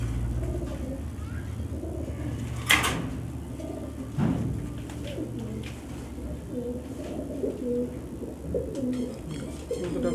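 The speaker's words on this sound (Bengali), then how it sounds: "এগুলো পাঙ্কি ফ্যাটের কবুতর" Giribaz high-flyer pigeons coo in a pet shop, soft rolling coos repeating steadily at moderate distance, with a couple of knocks and faint voices in the background.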